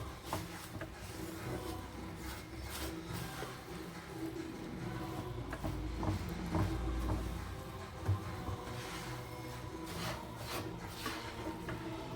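Ground roasted rice is mixed by hand in a bowl for sweet rice balls, giving a quiet, continuous gritty rubbing and scraping with repeated strokes.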